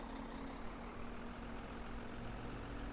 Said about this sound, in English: Let's start this loud truck up.